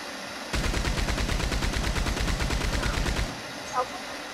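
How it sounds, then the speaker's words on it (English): A Maxim gun in a video game fires one sustained, evenly rhythmic burst of rapid shots lasting almost three seconds, loud and close, then cuts off to quiet background with a brief faint blip. "With a Maxim gun."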